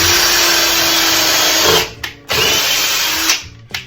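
A power drill whines loudly at high speed, cutting out briefly, spinning up again, then stopping near the end; close and alone, no speech.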